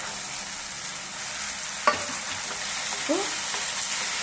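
Peas frying in hot oil for rava upma, a continuous sizzling hiss with a couple of brief stirring clicks, heard close up and alone.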